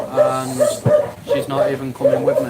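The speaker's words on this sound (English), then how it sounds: "Sorry about the dogs, guys." Dogs bark and yelp repeatedly in a rhythmic run of sharp, close calls, heard beneath a person speaking throughout.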